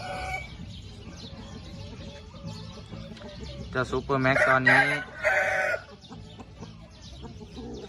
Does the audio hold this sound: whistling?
no